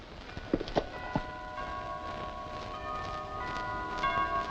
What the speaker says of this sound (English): This time it is the bell of departure.